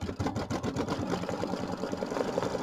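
An embroidery machine runs a rapid, steady stitching rhythm close by as it sews a tack-down line on vinyl applique, a continuous mechanical chatter with no pauses.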